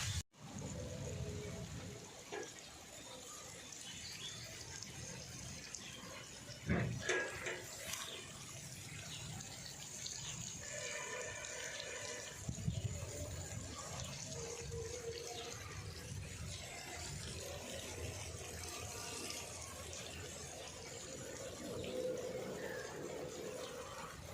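Water runs through a newly set drip irrigation line on a farm, a steady soft trickle and hiss lasting throughout with occasional small splashes and knocks, faint and close.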